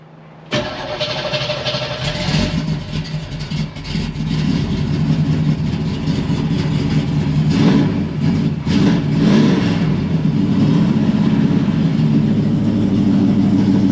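Original 1968 Chevrolet Camaro SS engine cranks and catches on a cold day, then runs loud and steady with revs rising and falling throughout, close up with no talking.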